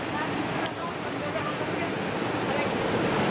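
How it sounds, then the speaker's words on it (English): Waterfall at the source of the Ganges, a steady broadband rush of falling water that stays loud and continuous throughout, with no voices over it. "We're here at the source of the Ganges. Checking out the cool waterfall."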